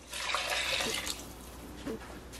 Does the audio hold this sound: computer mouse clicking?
no